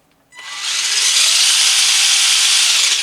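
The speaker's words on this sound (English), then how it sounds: "Let's see how fast the wheels turn." A small electric motor in an RC squash van build spins its wheels, starting abruptly with a rising whine that settles into a loud, steady, high-pitched buzz with no talking.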